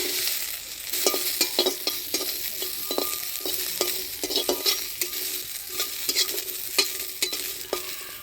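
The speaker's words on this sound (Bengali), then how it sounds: "বাটার জন্য রসুন, লঙ্কা আর কালো জিরা কাঠখোলায় ভেজে নিব।" Garlic, green chili and black cumin dry-fry in a clay pan: a crackling, hissing sizzle with frequent sharp scraping taps as the spices are stirred, close and continuous, no voices.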